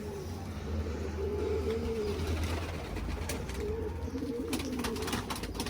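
Pigeons coo repeatedly in low, rolling phrases close by on a hot, humid summer day, with faint outdoor background noise and no talking.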